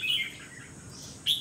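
A red-whiskered bulbul gives short, sharp chirping calls, one bright burst at the start and another near the end, clear against a quiet background.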